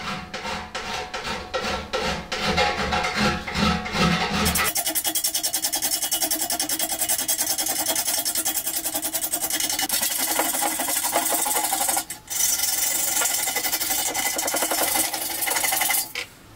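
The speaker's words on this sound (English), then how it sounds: "So just one direction with the file" A hand file rasps in steady one-direction strokes over a dented metal car panel, a quick rhythmic scrape at first, then a longer continuous gritty rubbing, close and clear, pausing briefly near the end.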